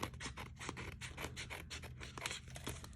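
Scissors trim paper for a no-sew handmade journal, a close, quiet run of rapid crisp snips and scratchy cuts in a steady rhythm with no talking.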